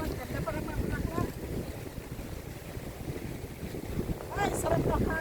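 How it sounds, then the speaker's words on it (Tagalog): Wind rushes steadily past the microphone while riding along a quiet road through rice fields, a continuous loud buffeting roar with a brief louder gust near the end and faint voices underneath. "Ay, sarap na hangin."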